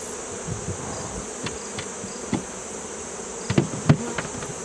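Honeybees hum around an open hive in September as a frame is set back in place, a steady insect drone with a few sharp knocks and clicks of woodwork near the end, no voices.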